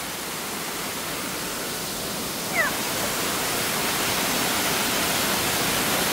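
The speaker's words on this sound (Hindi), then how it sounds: "ये झरना का" A roadside waterfall on the road from Shillong to Cherrapunji in Meghalaya gives a steady, dense rushing roar of falling water, even and unbroken throughout, with no voices over it.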